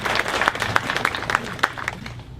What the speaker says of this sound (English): Why don't you guys give a round of applause for Ian?